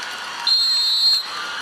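Single referee's whistle blown at a 2017 Women's Final Four college basketball game between Mississippi State and UConn, a steady shrill tone lasting under a second over arena crowd noise.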